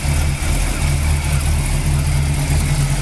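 A rebuilt 400 Pontiac big block V8 in a 1940 Pontiac Coupe street rod idles steadily with a loud, low, even rumble, heard close and alone.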